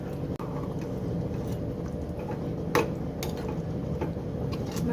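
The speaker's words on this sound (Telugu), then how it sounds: "ఇప్పుడు ముందు ప్రిపేర్ చేసుకున్న గోంగూర కూడా వేసేసుకుందాం చికెన్ కర్రీలోకి. మిక్స్ చేసుకోవాలి మొత్తం." Gongura leaves being stirred into chicken curry in a cooking pot, giving soft scraping and occasional light metallic clinks over a low, steady background, with one sharper knock near the start.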